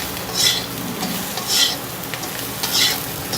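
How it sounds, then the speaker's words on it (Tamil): Raw banana being stirred and fried with dal masala in a pan, a steady sizzle with three scraping stirs of the spoon spaced about a second apart, close and moderately loud with no talking. "இப்போ வாழைக்காவை போட்டுருங்க"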